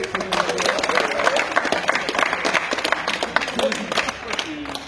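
A crowd at a French rap battle claps and cheers, a dense burst of applause with voices mixed in, fairly loud throughout.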